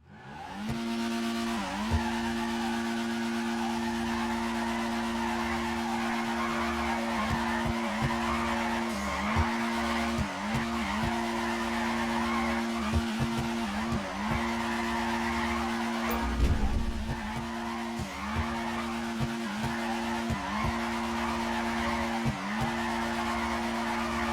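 A car drifting in GTA 5 keeps up a loud, continuous tire squeal over a steady engine drone for about 24 seconds, dipping briefly at each transition as the slide links from corner to corner.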